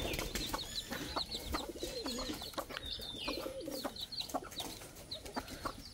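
Desi chickens cluck and murmur nearby in a busy yard, with soft repeated calls and some cooing over a faint background rustle.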